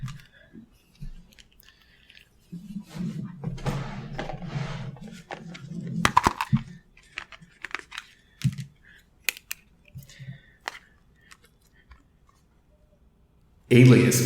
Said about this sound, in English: they have that satisfying chiclet clicky sound when pressed